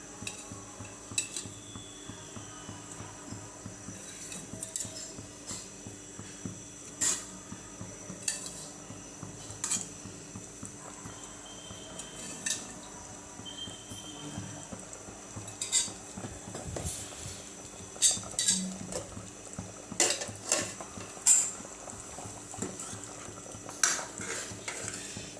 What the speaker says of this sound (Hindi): तो अभी हमने फ़िश फ्राई की हुई है वो मैं इसमें ऐड कर रही हूँ।